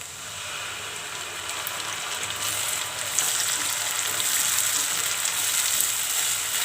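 Ground tomato and coriander paste frying with garlic and green chillies for an okra tamarind curry, a dense steady sizzle rising slightly in intensity, close and unbroken, with no talk.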